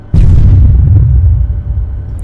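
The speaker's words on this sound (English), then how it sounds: "You can see the explosion." A loud, close explosion in the military shooter Arma 3, with an AAF reinforcements pack loaded, set off near rocks: a sudden blast followed by a long, deep rumbling decay.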